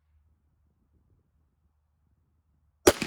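A single sharp rifle shot from a pre-ban Springfield Armory M1A cracks suddenly at the end after near silence, loud and close, with a brief trailing echo.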